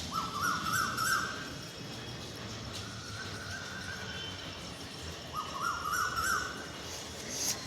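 An Asian koel calls from a flowering mango tree outdoors in spring, giving two bursts of rising, repeated notes near the start and end, heard moderately far over steady background noise.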